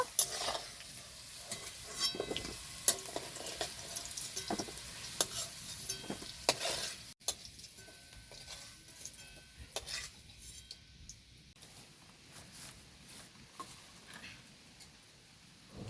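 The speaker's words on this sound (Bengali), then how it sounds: "আলুটাকে একটু লাল করে ভাজবো।" Potatoes fry in oil in a pan with a soft sizzle, broken by repeated clinks and scrapes of stirring, fairly faint and close.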